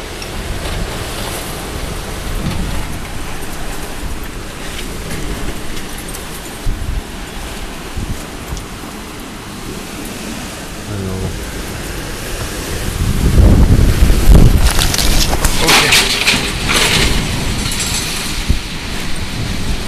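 Strong gusting wind from a windstorm blowing at an opened back door, a broad rushing roar buffeting the microphone, swelling louder toward the end with no talk.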